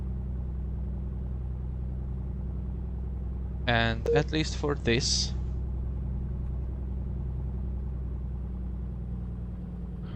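A light aircraft taxis toward runway 12 right at North Las Vegas, its engine giving a steady low drone throughout while a person speaks briefly over it.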